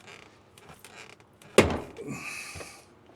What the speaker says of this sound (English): That's just slipping of the dolly, making that popping noise.